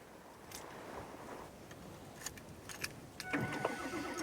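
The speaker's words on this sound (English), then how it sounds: "Now he must start the engine and let it warm up before continuing on his travels." Car engine cranking and trying to start in extreme cold around -50ºC, with a few clicks and a faint rising whir over a quiet background near the end.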